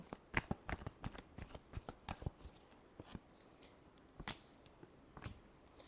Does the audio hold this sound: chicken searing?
no